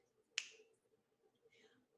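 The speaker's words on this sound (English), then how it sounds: "I can snap my fingers" A single crisp finger snap rings out close and clear in a quiet room, with a fainter second snap following about a second later.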